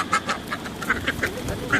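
Ducks quack repeatedly nearby at a park feeding spot, a quick run of nasal calls over a busy background of pigeons, other birds and chatter.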